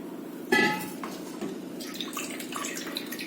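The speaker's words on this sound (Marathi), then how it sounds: "त्यावरती असं थोडंसं पाणी घालून हे स्वच्छ धुवून घ्यायचं" Water poured over poha in a strainer set above a pot, with a burst of splashing and clinking at the start that settles into a steady close trickle and patter.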